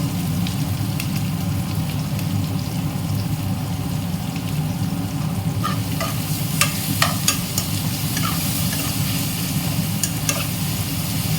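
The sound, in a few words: sautéing in a pan, stirring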